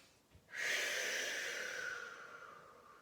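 Deep inhalation during a yoga stretch in a child's-pose variation, knees wide: a single long, breathy intake swelling in after a brief quiet moment and holding steady, close to the microphone.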